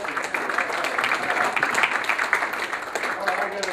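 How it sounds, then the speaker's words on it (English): Audience applause for a radio host at a conference panel, a fairly dense run of clapping from a seated crowd, moderately loud and steady with scattered individual claps standing out. "give Andy a round of applause."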